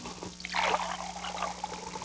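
Ocean Spray white cranberry juice spills in a brief, faint pour and splatter of liquid lasting under a second, followed by a soft trickle in a quiet room.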